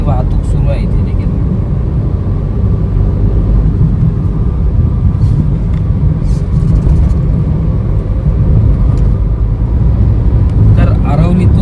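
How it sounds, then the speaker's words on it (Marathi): Traffic on the Mumbai–Goa highway near Aravali makes a steady, loud rumble of passing vehicles and road noise, heard continuously, apparently from inside a moving vehicle. "वाहतूक सुरू आहे इथे देखील."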